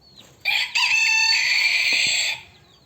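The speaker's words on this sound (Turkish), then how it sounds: "Bırakmamızda güzel bir horoz." A rooster crows once nearby, a loud, drawn-out cock-a-doodle-doo lasting about two seconds against quiet surroundings.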